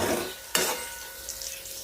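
Food is stirred in a frying pan, with a continuous sizzle and one sharp utensil scrape against the metal partway through, close by and without speech.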